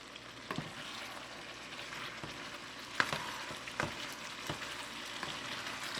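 Curry sauce for chicken drumsticks simmers down in a pan with a soft, steady sizzle and bubbling, broken by occasional light pops and stirring clicks, close and fairly quiet with no talking.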